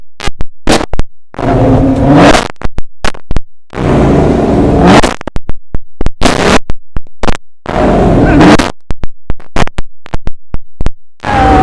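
A 2020 Chevrolet Camaro SS and a 2020 Ford Mustang 5.0 GT rev their engines together in repeated loud, sharp bursts, with short blips and longer roaring pulls separated by near silence.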